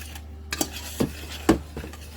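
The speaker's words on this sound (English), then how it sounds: "we're going to mix this together" Tuna casserole ingredients being mixed with salt in a dish, a few soft scraping and tapping strokes of a utensil against the bowl, close and quiet with no talk.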